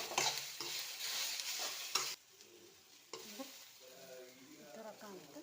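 A frying mixture with turmeric sizzles in a pan as a spoon stirs it, a few scraping strokes and clinks at first, then quieter sizzling with a voice speaking over it.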